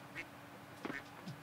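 A duck in the Coral Island farming game quacks a few times in short, fairly quiet calls over soft background game ambience.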